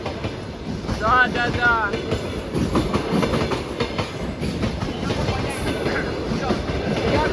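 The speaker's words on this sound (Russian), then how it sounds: "Самое опасное, когда шум, а там поезд едет и едет." A train rolls along railway tracks near Shepsi on Russia's Black Sea coast, giving a steady rumble and rhythmic clickety-clack close by, with a faint wheel squeal and a voice speaking briefly over it.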